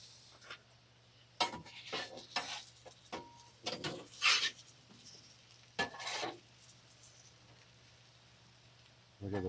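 Potatoes and peppers on a griddle of a Masterbuilt Gravity Series grill, scraped and flipped with a few sharp metal clatters over a faint steady sizzle, in scattered bursts with pauses between.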